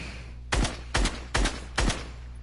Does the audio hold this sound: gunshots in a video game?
yes